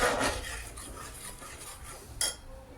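A spoon scrapes and rubs through masala with turmeric in a pan for egg curry, giving soft gritty stirring strokes, then one sharper metallic clink near the end.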